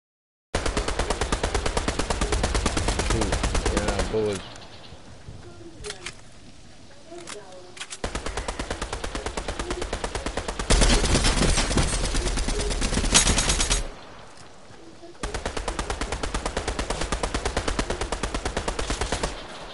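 Rapid automatic gunfire in a video game comes in long sustained bursts separated by short pauses, loud and close, with brief quieter gaps of ambient game sound between volleys.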